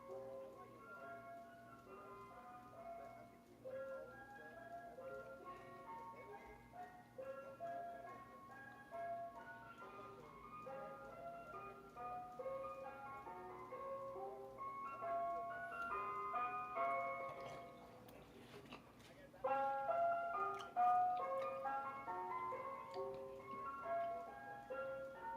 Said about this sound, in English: You got an ice cream truck here?